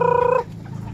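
Bantam chickens at feeding time give a loud, sustained tonal call lasting under half a second, followed by softer rustling and faint clucking close by.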